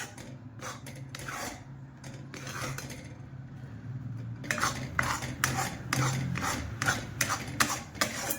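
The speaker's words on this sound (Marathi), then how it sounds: "याला अजिबात थांबायचं नाही, याला सारखं हलवत राहायचं, नाही तर गूळ खाली लागण्याची शक्यता असते" Jaggery and ginger mixture stirred continuously in a pan, giving repeated scraping and clinking of a spoon against the metal, steady and close, growing busier in the second half, with no talking.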